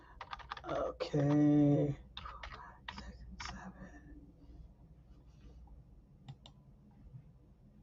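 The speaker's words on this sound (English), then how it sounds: "I'm just putting in any zip code" Typing a zip code on a computer keyboard, a scatter of light key clicks in quick bursts and isolated taps, close and quiet, with a person speaking briefly at the start.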